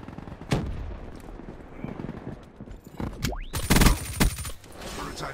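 A Basilisk gun firing in a video game, several loud sharp gunshot bursts with a rising whine between them, close and prominent over a busy game background.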